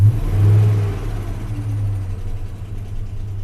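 A car engine with a cylinder 6 misfire on the passenger side bank runs at a loud, close idle, a deep rumble that swells briefly at first and then settles into a steady, slightly uneven hum.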